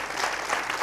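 Brief burst of audience applause at a Canarian parranda folk music gathering, steady dense clapping filling the whole moment.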